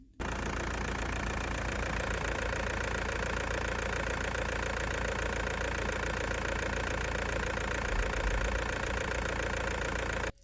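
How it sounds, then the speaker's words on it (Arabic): A Volkswagen Golf 4 engine idles steadily in a continuous mid-pitched drone with a faint knocking texture, close and loud, running unbroken with no talking until it cuts off at the end. "انا دابا غادي نسكت باش تسمعوا صوت الموتور فقط"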